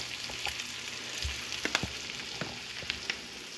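A thin Spanish mackerel fillet fries in a pan, giving a steady close sizzle with scattered sharp pops and crackles and no voices.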